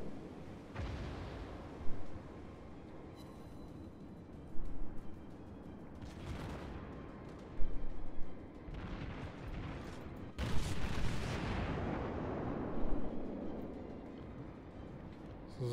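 Naval guns boom in World of Warships, a cruiser such as the New Orleans firing on the battleship Colorado, several heavy blasts spaced a few seconds apart over a steady rumbling battle background.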